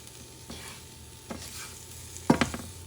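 Toasted cassava farofa with olives is mixed in a hot pan, giving soft dry scraping strokes over a low sizzle, with a few sharper spoon scrapes and clinks toward the end.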